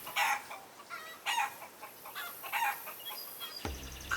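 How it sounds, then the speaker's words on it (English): A hen clucks softly in short, repeated bursts at moderate distance, fairly faint and evenly spaced, before a low rumbling sound enters near the end. "Clucking to herself as chickens do."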